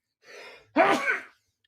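A single close, loud sneeze, a short breathy intake followed by a forceful burst, alone without talking.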